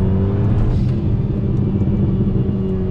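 A Renault Megane 2 RS F1 Team R26 with a 230 hp engine is held in second gear. Its deep, steady engine rumble fills the cabin, loud and continuous throughout with no talking.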